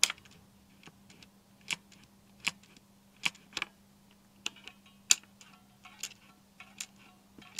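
Keystrokes on a Cherry G80-3000 keyboard with click jacket switches, sharp plasticky clicks spaced irregularly about every half second, close and quiet over a steady low electrical hum.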